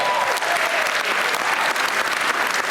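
Audience applause for the alumni at a showtime performance in El Paso, a full, steady wash of many hands clapping at an even level throughout.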